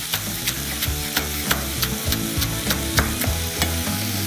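Chopped leeks and spring onions fry in a pan with a steady loud sizzle, broken by regular scraping strokes of stirring, close up.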